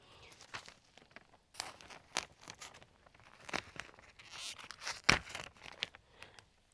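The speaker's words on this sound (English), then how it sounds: "we're gonna go ahead and continue our rectangle cut all along the side" A plastic bag of soil is slit open along its side in short tearing and crinkling bursts with pauses between them. The sound is close and fairly quiet, with one sharp rip standing out near the end.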